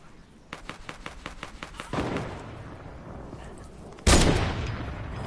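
Sniper rifle gunfire in a video game: a quick series of snapping shots followed by heavier booming blasts, loud and close, with game sounds between.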